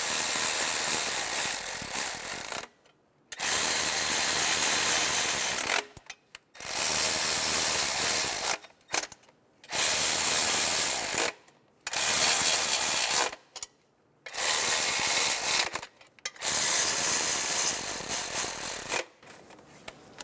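A ratchet snugs down valve cover bolts on a 2003-2007 Honda Accord 3.0L V6, giving loud, close bursts of rapid clicking separated by short pauses as each bolt is tightened in turn.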